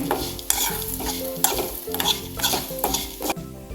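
Spices, fenugreek and lentils are sautéed in a pan for homemade sambar masala, stirred in brisk, repeated strokes that scrape and rustle roughly every half second over a low sizzle, loud and close.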